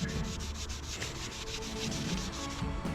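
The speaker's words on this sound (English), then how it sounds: "I'm going to write the date and the mileage on there." Marker writing a date and mileage on a car filter during a Mk7 Golf service, a close, steady scratchy rubbing on the filter surface, continuous and alone, with no voices.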